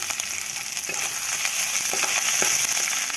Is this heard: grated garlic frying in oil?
yes